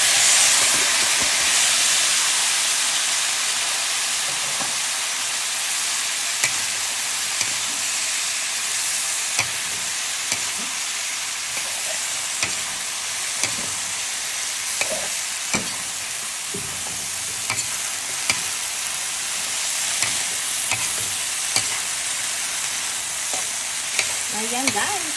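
Malunggay leaves fry and get stirred in a hot pan, with a loud, continuous sizzle and hiss and occasional scraping knocks from the stirring utensil, close up and nearly free of talk.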